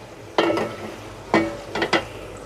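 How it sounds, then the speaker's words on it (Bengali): Onions dropped into very hot oil give three loud sizzling bursts, one after another, with quieter frying hiss between them. "হঠাৎ তেলটা গরম হয়ে গেছে, আর আমি উঠে পেঁয়াজ ছাড়ছি। অনেক জোরে আওয়াজ আসছে"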